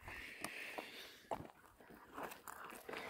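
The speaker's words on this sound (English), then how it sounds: "We got some community tree chewing." Several dogs gnawing and biting at a tree outdoors, irregular crunching and snapping bites close by with rustling footsteps, no talk.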